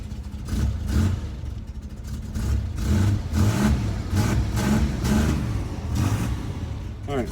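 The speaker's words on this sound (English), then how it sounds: "Come on, little truck." A Chevrolet S10 pickup engine cranks and runs rough with uneven revving, loud and close, while a person talks over the rumble.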